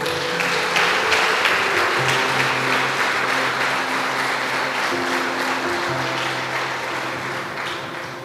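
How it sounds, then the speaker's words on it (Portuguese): Sustained, loud applause from a church congregation fills the whole stretch, dense clapping that holds steady and fades slightly toward the end, with a few faint musical tones underneath. "Você pode dar um aplauso ao Senhor?"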